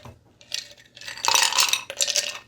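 Ice cubes clatter into two glasses during holiday bourbon cocktail making, a few sharp clinks and tumbling knocks in quick bursts, loud and close with no talking.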